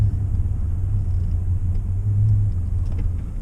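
Ford F150 pickup truck with an unfixed fault, a low steady humming drone inside the cab, constant and fairly loud with a faint rumble beneath.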